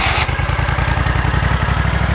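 A Toro Multiforce fitted with a dethatcher, its engine already running in a loud, close, steady mid-pitched pulse, without any talk.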